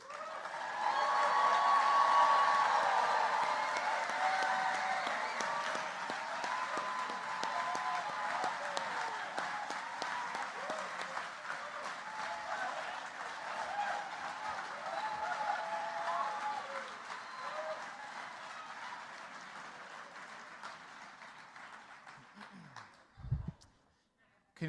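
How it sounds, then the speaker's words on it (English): An awards ceremony audience applauds the standing 2023 winners and nominees: a dense burst of clapping swells at once, then slowly thins and fades over about twenty seconds before cutting off. "round of applause?"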